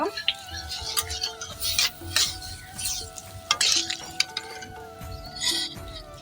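Papaya stirring and frying in a pan for a Bengali papaya shukto, with spoon scrapes, soft sizzling and light metal clinks repeating irregularly at close range beneath a low, steady background hum.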